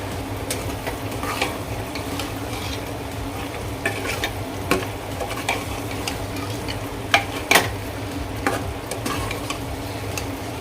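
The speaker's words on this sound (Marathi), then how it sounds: "आता हे मिक्स करूयात व्यवस्थित" A spoon works chicken coated in Agri masala and coconut paste around a pan, a continuous close stirring and scraping over a low sizzle, broken by occasional metallic taps against the pan, with no voices.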